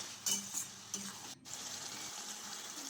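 Utensil scraping and stirring mixed vegetables, including Malabar spinach stems, in a pan over a steady sizzle, with a few louder clinks early on, no voices.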